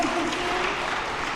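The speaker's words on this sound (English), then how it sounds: "Can we give her a round of applause" Audience at a diaspora conference applauds in a steady, dense wash of clapping, moderately loud and continuous for the whole short stretch.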